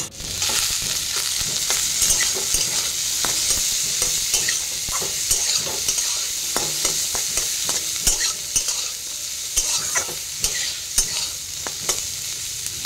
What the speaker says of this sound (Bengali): তারপর ফুলকপিগুলো দিয়ে দিলাম। এরপর একটা একটা করে সব সবজি আমি দিয়ে দেবো।